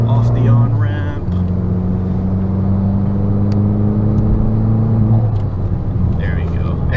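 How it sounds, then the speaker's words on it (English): A Fiat 500 Abarth accelerating off a highway on-ramp, its engine note a loud, steady drone that climbs in pitch and holds close inside the cabin, with a voice talking over it. "this is not going to be green anymore because I'm accelerating off the on-ramp"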